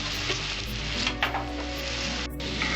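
Peas hit egg and fried rice in a hot pan, a continuous loud sizzle with stirring scrapes and a brief clatter near the end.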